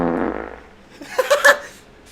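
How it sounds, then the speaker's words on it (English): A short, loud fart rasps out up close, followed by a few quick higher bursts that may be laughter. "Let me get a video farting."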